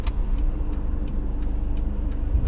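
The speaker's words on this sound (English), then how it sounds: "Back end of this car sticks out." A car turning slowly on a narrow countryside road gives a steady low engine rumble throughout, close and even, with faint high ticks recurring above it.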